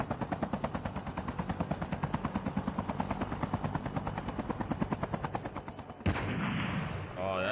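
Rapid automatic gunfire in the mobile shooter game Call of Duty Mobile, a steady fast stream of shots lasting several seconds over continuous game background noise, ending in a mechanical clatter, with no speech.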